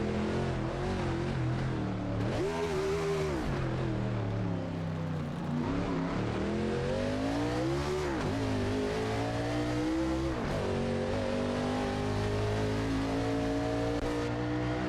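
A NASCAR-style race car in the BeamNG driving game revs repeatedly, its engine pitch sweeping up and down in several surges while driving, fairly quiet and continuous with no talking.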